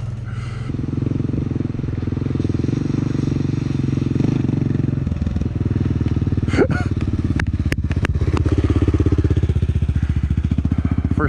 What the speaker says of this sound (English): It's a Suzuki Vstrom on street tires.